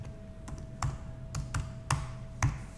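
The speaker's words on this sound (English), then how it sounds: "I'm just going to type in." A computer keyboard is tapped in a sparse, uneven sequence of about eight close, crisp keystrokes over a faint steady background hum.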